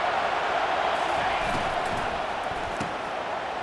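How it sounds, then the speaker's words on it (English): Stadium crowd in a College Football 25 game, Penn State against Wisconsin, a steady loud roar of massed voices that never lets up, broad and enveloping, with a few sharper shouts poking through. "This crowd bringing an ear-splitting welcome to their visitors"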